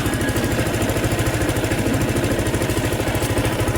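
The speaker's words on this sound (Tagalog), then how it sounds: "So, try natin guys yung bagong motor ni Noel" A new motorcycle engine idles nearby with a steady, rapid low-pitched putter. The chugging stays loud and even throughout, with no voices.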